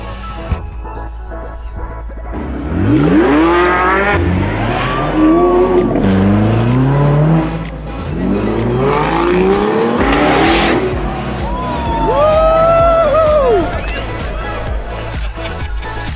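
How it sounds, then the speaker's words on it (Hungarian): A Ferrari locks its tires under hard braking at the end of a track straight on the Gumball 3000 rally, several loud drawn-out squeals and skids with engine roar, swelling and fading over about sixteen seconds before a final high-pitched screech. "az egyik Ferrari a célegyenes végén féktávon blokkolt és belecsapódott az egyes kanyar gumifalába"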